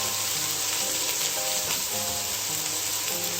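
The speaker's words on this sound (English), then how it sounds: "now we're going to add in the broccoli" Broccoli sautéing with onions in a pan, a loud, close, continuous sizzle and crackle with a steady hiss throughout.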